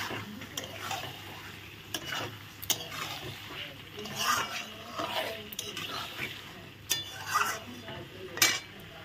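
Chicken pieces stir-fried in a pan for a spicy Bengali chicken curry, with a soft sizzle under frequent sharp clinks and scrapes of a spatula against the metal, fairly quiet and close.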